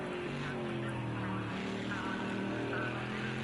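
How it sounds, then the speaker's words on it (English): Bentley GT3 race car engine roars steadily around the track in a GT3 championship racing video game, a continuous loud drone with shifting pitch. "As we listen to that thunderous Bentley roaring around the track"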